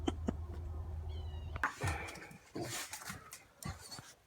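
Dogs outdoors in deep snow on a snowed-in winter day, giving a few short whimpering yelps and soft vocal sounds amid shuffling and crunching movement, fairly close, with a low rumbling hum in the first part.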